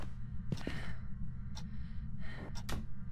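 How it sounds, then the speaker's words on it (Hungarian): Heavy, breathy panting pushed close into a headset microphone during a Phasmophobia horror game session, with several sharp gasps and hissing exhales over a low, steady background hum. "Te lihegsz ilyen hevesen?"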